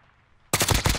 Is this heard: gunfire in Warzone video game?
yes